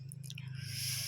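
Someone eats som mak muang, Lao green mango salad, close to the microphone, wet squishy chewing and crunching bites over a low steady hum.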